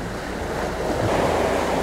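A strong stream of water pours into a canal lock beside a houseboat, a loud continuous rushing and churning wash that sounds close by.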